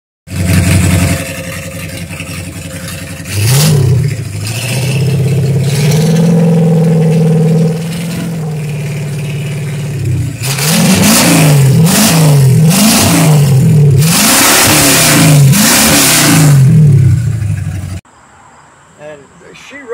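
A 1966 Ford Thunderbird V8 cranks and fires up, idles with a throaty rumble, then gets several sharp revs in a row, loud and close. The engine cuts off near the end.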